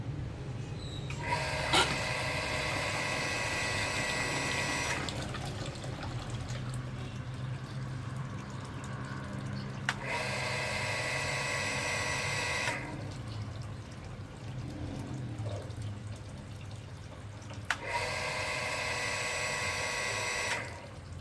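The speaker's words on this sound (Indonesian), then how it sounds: "Sekarang kita nyalakan pompa." An electric water pump hums steadily while filling water, with a constant drone and pulsing tonal bursts that switch on and off in cycles over a faint flow of water.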